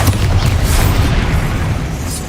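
Loud, continuous rumbling blast from the Bombarda spell in the video game Hogwarts Legacy, a deep sustained boom filling the whole moment with no voices.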